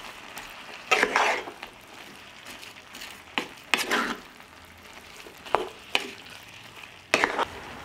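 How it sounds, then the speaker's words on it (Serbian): Vegetables seasoned with sweet ground red paprika fry in a pan, a soft continuous sizzle broken by about five distinct bursts of stirring and scraping spread through the clip. "Sve ću promešati i nastaviti da pržim dok povrće ne omekša."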